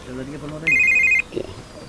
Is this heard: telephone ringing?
yes